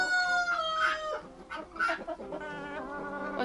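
Black Cochin hens, an older bird in front and a younger one behind, cluck and give short crowing-like calls in a series of loud, close bursts with brief pauses, with no talking.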